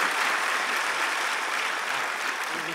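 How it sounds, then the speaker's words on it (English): An audience applauds for David Foster on stage at a talent show, a steady dense wash of clapping that holds evenly throughout with no voices over it. "Big round of applause to David Foster!"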